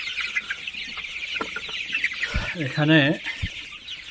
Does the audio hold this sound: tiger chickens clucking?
yes